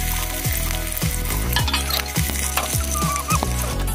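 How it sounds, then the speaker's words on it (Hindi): Sliced onions sizzle and fry loudly in hot oil with whole black and green cardamom, black pepper and cinnamon for a mutton curry, a steady close crackle with occasional clinks of a spoon against the pan and background music. "देखिए मैं इसी में प्याज डाल,"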